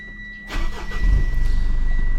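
A Mitsubishi Strada fitted with a new full exhaust starts up, a brief crank catching into a loud, steady idle rumble close by.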